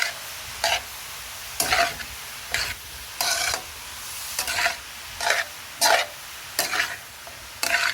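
Cabbage curry stirred constantly in a pan over high heat, a low sizzle broken by about ten sharp spatula scrapes at an uneven rhythm, close and alone.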